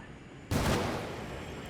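A 40 mm gun fires in a tank video game set in an alternate-history Second Korean War: a single sharp, loud blast followed by a long rumbling decay against steady battle noise.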